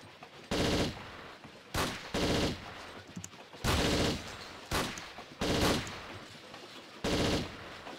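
Repeated bursts of gunfire in a Tomb Raider custom level crack out in short clusters, fairly loud and close, with brief gaps between volleys.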